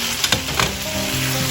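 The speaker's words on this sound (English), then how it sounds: "I will uncover it and we will continue frying." Food frying in a pan for a Thanksgiving side dish, a close, steady sizzle with a few crisp pops and stir clatters near the start.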